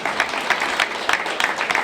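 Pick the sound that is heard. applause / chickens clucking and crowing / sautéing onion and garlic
applause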